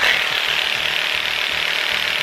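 A Theragun Vibe percussive massage gun runs steadily, a rapid mechanical buzzing hum with fast rhythmic thumping, close and constant.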